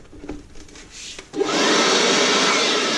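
After a few faint clicks and handling noises, a Dedra cordless vacuum blower starts up abruptly and runs with a steady, loud, airy whir.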